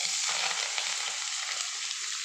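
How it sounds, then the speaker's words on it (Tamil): Three onions, two green chillies and curry leaves are tempered in hot oil in a pan, crackling and sizzling in a continuous bright hiss with no talk. "வச்சுட்டு 3 பல்லேரி, 2 பச்சை மிளகு, கொஞ்சம் கருவேப்பிலை தாளிக்கணும்."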